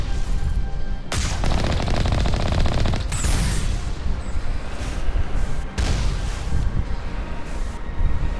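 Sustained rapid automatic turret fire in the sci-fi game Mass Effect on Noveria, with loud continuous bursts broken by short gaps, heard close and alone with a rumbling low end.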